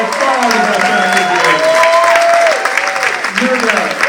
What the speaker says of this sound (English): get a cheer to Christopher